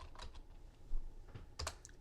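Quiet keystrokes on a computer keyboard, a handful of separate taps with short pauses between them, close and soft in an otherwise still room.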